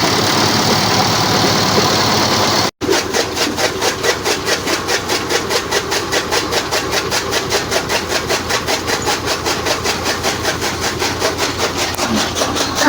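A tractor-powered forage chopper cuts fodder with a loud, rapid, rhythmic chopping under a droning engine. One brief dropout breaks the sound before the steady cutting pulse resumes.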